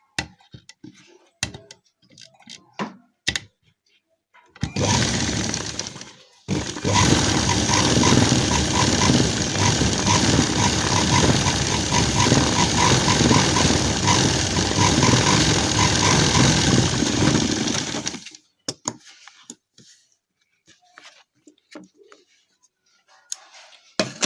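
A sewing machine runs steadily for about twelve seconds, stitching a firm, reinforced seam across gharara fabric, then stops. Only faint handling clicks and rustles come before and after the loud, continuous whirring run.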